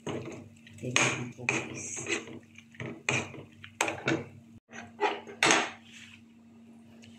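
Metal utensil scraping and clinking against a pot as a Filipino vinegar dish is stirred, a run of close, irregular clatters with a steady hum beneath and a voice speaking briefly.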